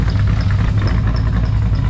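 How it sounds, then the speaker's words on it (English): A supercharged 426 Hemi in a Dodge Dakota idles loud and close, its deep steady rumble carrying a repeated exhaust chirp from cam valve overlap, with no talk over it. "you go to the back and then you hear the chirp coming out of the exhaust."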